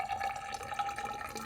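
Water steadily fills a DIY aquarium tank through newly built plumbing, a soft continuous trickling and splashing that runs faint and close throughout, with no talking.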